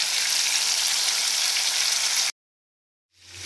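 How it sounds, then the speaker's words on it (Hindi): Stuffed green chillies frying in oil, a close, steady, hissing sizzle that cuts off abruptly into silence, then fades back in faintly. "फ्रेंड्स, देखिए मेरी मिर्चें बिल्कुल ऑलमोस्ट रेडी हैं, फ्राई हो गई हैं।"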